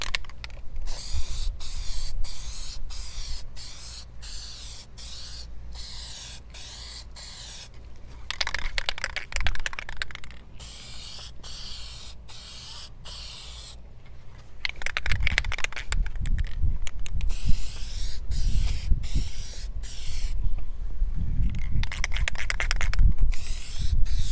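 Aerosol can spraying a heavy coat of Plasti Dip rubber coating on lettering and emblems, long hissing bursts separated by short pauses, close and loud with some handling clatter between sprays.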